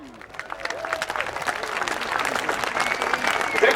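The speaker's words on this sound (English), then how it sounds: "If you now could give him a round of applause" An outdoor crowd at the Farnborough International Airshow applauds a Parachute Regiment jump master after his landing, a steady wash of clapping that swells louder toward the end, with faint voices beneath.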